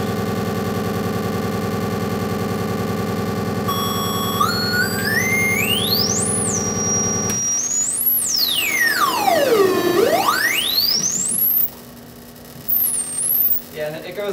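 An Atari Pokey sound chip drones a steady tone before high-pass filtered pitch sweeps glide upward and dip, ending in a deep swoop and choppy bursts, loud and close with no speech over it.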